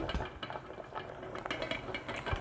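A gram flour and turmeric mixture is stirred into melted soap, giving continuous scraping and clinking of a utensil against a pot. The stirring is close, busy and uneven, with occasional sharper knocks and no voice over it.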